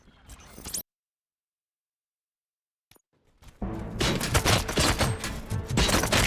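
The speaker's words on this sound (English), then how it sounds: "Gunshots? What's going on?" Gunfire from the video game RoboCop: Rogue City bursts out loudly in a dense, continuous volley after a brief crackle and a stretch of silence.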